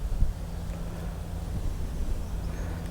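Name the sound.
strong wind at the golf course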